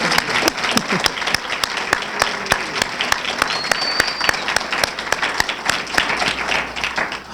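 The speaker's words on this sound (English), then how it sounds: "Let's also give Mr. Al Martin a round of applause" A crowd at a civil rights symposium applauds at length, a steady roar of many hands with a few sharp, prominent claps standing out near the front, sustained and loud throughout.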